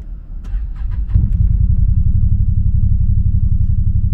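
A Can-Am Defender Turbo side-by-side fitted with a Force Turbos system cranks with a few quick clicks, catches and settles into a loud, steady close-up idle rumble, no speech over it.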